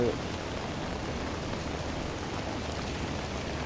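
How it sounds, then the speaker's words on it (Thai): Heavy rain pours steadily outdoors in the pre-dawn dark, a dense, even hiss of drops on surfaces that runs without a break and stays loud throughout. "ตก ไม่หยุดเลยนะครับ ฝน นี่ฮะ ตกหนักมากนะครับนี่ฮะ ตั้งแต่เมื่อคืน"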